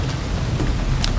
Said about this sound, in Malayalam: പക്ഷെ പെട്ടെന്നായിരുന്നു മഴ വന്നത്.